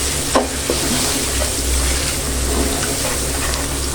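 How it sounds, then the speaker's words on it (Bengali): Spices with red chili powder and Kashmiri chili powder fry and get stirred in a pan, a steady broadband sizzle with occasional soft scraping clicks, continuous and fairly loud, no voices. "এখন আমি মশলাটাকে ভালো করে কষিয়ে নিব।"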